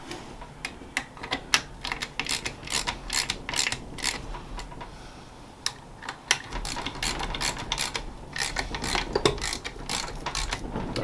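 Newly installed 4.88 gears, a differential ring and pinion, are turned by hand. They give rapid ratcheting clicks and mechanical ticks in uneven bursts, close up, with no talking.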